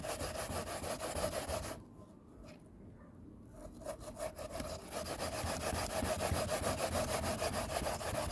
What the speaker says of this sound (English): I finished doing my potato, so I am grating my yam